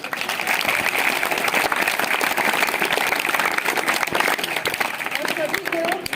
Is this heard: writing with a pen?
no